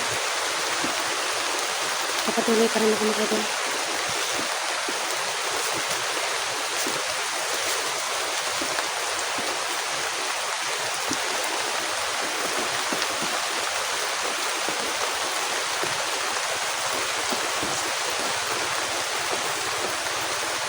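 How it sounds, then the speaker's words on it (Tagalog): Heavy rain pours down in a dense, steady hiss. Someone speaks briefly over it near the start, and the downpour stays loud and even the whole time. "Ang lakas ng ulan mga idol."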